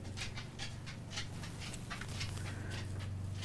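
A dog pants steadily and fairly close, a quick rhythmic breathing that keeps going without a break over a low indoor hum.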